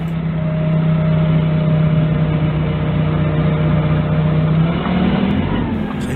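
A forklift engine labors steadily as the machine drives up onto paving blocks, a loud, continuous drone that shifts pitch near the end as it strains over the curb.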